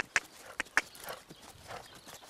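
A horse canters around an arena, its hoofbeats landing as a few sharp, close thuds early on before settling into a softer, irregular rhythm, with no talking over them.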